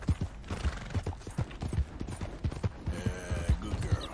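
Steady rhythmic clip-clop of a horse's hooves in the video game Red Dead Redemption 2, close and prominent over a busy ambient game soundscape with creaks and background noise.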